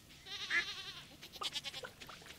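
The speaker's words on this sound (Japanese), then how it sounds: "あ、ヤギだ、ヤギもあるか" A goat bleats in the farming video game Stardew Valley: a wavering, nasal bleat up close, followed by a short run of softer chirpy game sounds.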